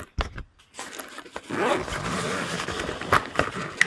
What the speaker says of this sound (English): up here is a zipper.